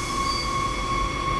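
A train in the Train Sim World simulator begins to move, giving a steady low rumble under sustained tonal electric whines that hold level for the whole moment, with no talk.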